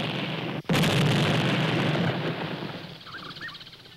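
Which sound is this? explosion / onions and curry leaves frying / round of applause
explosion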